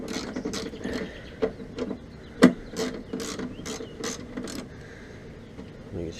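A ratchet with an 8mm socket backs out headlight screws on a 2006 Dodge Caravan, giving short bursts of quick clicking separated by brief pauses, close and moderately loud.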